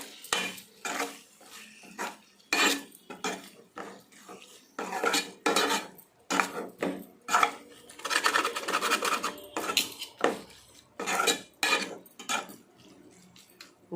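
Raw shrimp are stirred in a metal pot with onions, salt and a utensil, producing irregular bursts of clattering, scraping metal-on-metal knocks at close range, separated by short quiet gaps.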